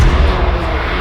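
Tuned 450 bhp MK8 Golf GTI engine roaring loud and close, a dense low-heavy rumble that holds steady through the short moment with no talk.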